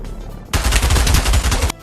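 Gunfire in the VR shooter Pavlov: a loud burst of rapid shots erupts after a quiet half second, sustained for over a second before cutting off abruptly.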